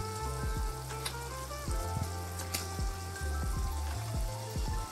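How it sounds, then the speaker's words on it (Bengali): Pieces of washed raw fish frying in hot oil with spices for a Bengali fish curry, a close, loud, steady sizzle with repeated crackling bursts as each piece drops in. "এর মধ্যে একটা একটা করে দিয়ে দেবো মাছগুলো।"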